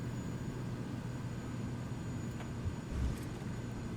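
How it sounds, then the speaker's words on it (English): Aircraft making a rough landing on a narrow, tree-lined Papua New Guinea highland bush strip in Microsoft Flight Simulator: a steady engine drone with low thumps and a brief bump near the end of touchdown. "That was a little bit a rough landing, but obviously you need to get down quickly."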